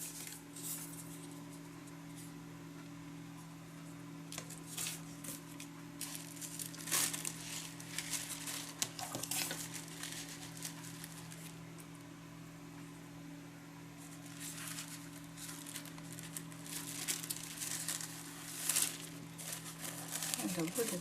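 A piece of embossed envelope paper being handled and crinkled, producing soft, intermittent rustles and crackles at close range over a steady low hum, with busier bursts around the middle and end.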